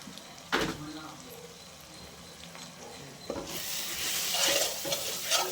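Mutton gravy masala with sambar powder frying in a pan, a steady close sizzle with a couple of spoon scrapes and knocks against the pot, growing louder and hissier after stirring.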